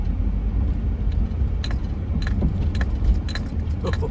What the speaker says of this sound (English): My car is slowly getting more creaks and groans and clunks as I drive.